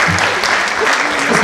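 Dense, steady clapping from a concert audience at a city day celebration in Khasavyurt, Dagestan, fills the whole moment, loud and continuous without pause.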